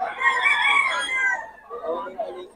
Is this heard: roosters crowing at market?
yes